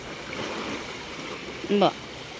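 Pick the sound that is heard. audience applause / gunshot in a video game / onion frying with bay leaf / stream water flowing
stream water flowing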